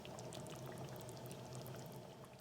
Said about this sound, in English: I'll pour in a serving bowl so that you can have a better view.